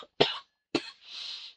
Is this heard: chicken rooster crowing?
no